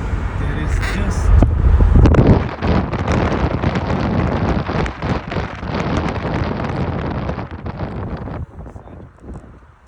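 Car driving on a road toward the open USA–Canada border, with loud wind buffeting at first, then steady road noise as a person talks throughout.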